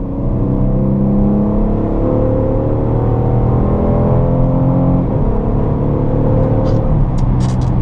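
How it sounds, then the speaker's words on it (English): Loud, steady engine roar of an SUV accelerating at full throttle from third gear, heard from inside the cabin, with rising harmonics and a brief gearshift dip near the middle, a few faint clicks toward the end. "This is from third. Give it full throttle."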